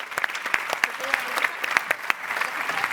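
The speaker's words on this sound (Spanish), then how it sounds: "Un aplauso, muchas gracias." Audience applause at the close of a talk on sustainable artificial intelligence at a forum, steady dense clapping with a few sharper individual claps standing out, moderately loud throughout.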